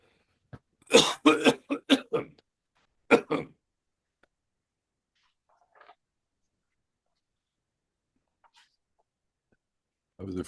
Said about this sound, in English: I'm just going to cough without the microphone.